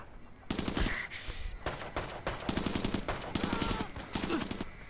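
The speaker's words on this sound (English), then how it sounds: "I love the sound of the bullets" Rapid automatic gunfire bursts from the World War II shooter video game Brothers in Arms 3, loud, repeated volleys with short gaps between them.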